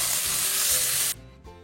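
Steady loud sizzling of ground spices, including cinnamon, being stirred and fried in a hot pan for pallubasa, a South Sulawesi dish; the sizzling cuts off abruptly, followed by a faint scrape.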